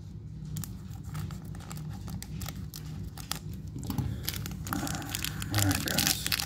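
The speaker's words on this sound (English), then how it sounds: "handy dandy scissors" Scissors snipping open the foil wrapper of a Pokemon GO trading card pack from a Mewtwo Elite Trainer Box, giving close crinkling and cutting noises that grow louder toward the end, with no talk over them.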